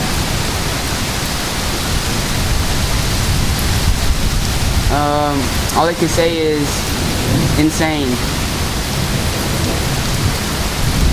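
A heavy thunderstorm over St. Louis, Missouri: loud, dense rain hisses throughout while rolling thunder rumbles underneath, and someone talks briefly over the downpour midway through.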